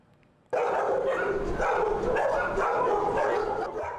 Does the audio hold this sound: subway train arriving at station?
no